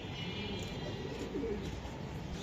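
Racer pigeons in a loft coo softly and continuously, a low burbling murmur that stays steady and fairly close with no voices over it.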